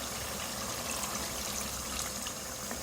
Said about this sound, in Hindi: 1/2 कप पानी डाल रही हूँ मैं